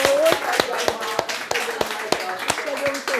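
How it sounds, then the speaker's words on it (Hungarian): A small audience applauds after a history lecture on the Battle of Kursk in Kalocsa, with sparse, evenly spaced claps and voices talking alongside. "Először tapsoljuk meg szerintem."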